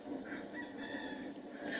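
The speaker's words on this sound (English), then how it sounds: "There is a rooster." A rooster crows outside a federal courthouse in downtown Miami, a distant, moderately loud call drawn out across the whole stretch over steady street ambience.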